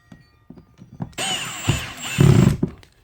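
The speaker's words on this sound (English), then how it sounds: "now I take and run my first screw up here" Power drill driving a screw into an electrical outlet box, a near, loud whirring burst lasting over a second that bogs down to a heavier grinding finish, with light handling taps before and after.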